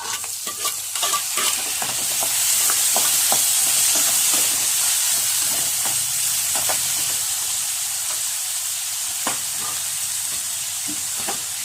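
Onion and tomato frying in oil for Bombay chutney, a continuous close sizzle broken by repeated scraping and stirring clicks of a spoon against the pan, with no voices.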